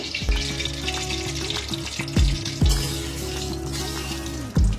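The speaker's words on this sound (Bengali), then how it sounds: "এবার আমি একটু ঘি মেশাচ্ছি সাদা তেলের সাথে।" Ghee mixed with white cooking oil sizzles steadily in a pan, a dense close crackle broken by a few louder clanks and stirring knocks, with no talking.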